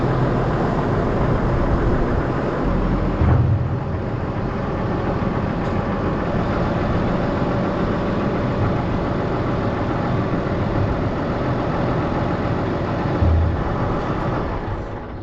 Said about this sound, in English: Now I'm gonna go ahead and take the loader tractor